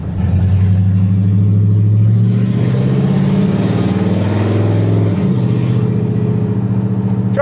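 An LS-swapped 1971 Chevrolet C10 pickup drives along with a steady, loud, close engine drone and low exhaust rumble, its pitch changing as the transmission shifts partway through.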